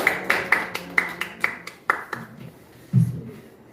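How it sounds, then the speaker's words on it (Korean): Scattered handclaps from a small church congregation, about eight sharp, separate claps in an uneven rhythm, then a brief low thump, with quiet room tone between them. "우리 박수로 감사 표현을 해주시기 바랍니다."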